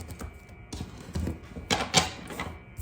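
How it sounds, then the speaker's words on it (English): Tarot cards are shuffled by hand in quick riffling bursts, close and crisp, with a few soft taps between flurries and no talk. "Let me shuffle."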